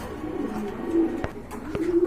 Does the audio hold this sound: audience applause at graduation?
no